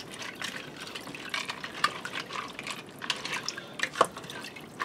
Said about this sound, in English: And I'm just using cold tap water.